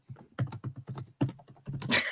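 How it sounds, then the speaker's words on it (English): A computer keyboard is typed on nearby in uneven bursts of distinct key clicks, with short gaps between groups of keystrokes and a louder, busier flurry at the end. "Matt Boland is typing"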